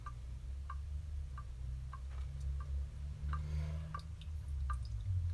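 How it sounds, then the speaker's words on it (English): Coffee drips through a filter while brewing, falling in a steady, evenly spaced series of about a dozen small, clear drops over a low background hum. "They both received essentially the same amount of water, but they dripped through very quickly."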